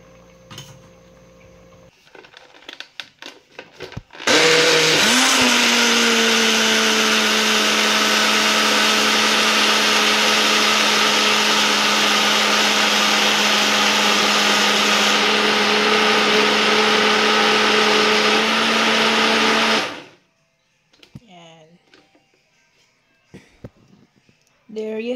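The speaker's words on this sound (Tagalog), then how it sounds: "i-blender natin siya para maging sauce." A blender purees cooked fresh tomatoes into sauce, roaring loud and steady for about fifteen seconds before cutting off abruptly, with quieter handling noises and a brief voice before and after.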